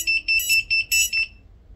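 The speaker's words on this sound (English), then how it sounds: "If I push this button, it'll beep." An FPV drone's locator buzzer, triggered from a button on the radio controller, gives a close, rapid series of six short shrill electronic beeps in a quick pulsing rhythm, then falls silent.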